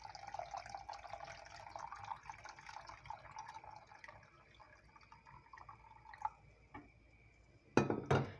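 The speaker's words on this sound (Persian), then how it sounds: "مقداری آب رو به اون اضافه میکنیم" Lukewarm water pours into a pot of lamb meat for bean rice, a faint trickling and dripping that fades out, followed by a sharp clink of metal or glass near the end.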